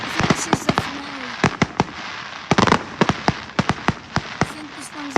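Fireworks bursting outdoors in rapid, irregular sharp bangs and crackles, some close together in clusters, over a steady background hiss.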